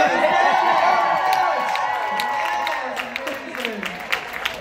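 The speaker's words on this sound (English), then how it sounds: "please give a round of applause for these guys" An audience claps and cheers loudly at a live theater Q&A, a dense continuous wash of applause with whoops that slowly eases off toward the end, with no talking over it.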